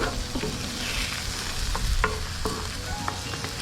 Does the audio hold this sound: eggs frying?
yes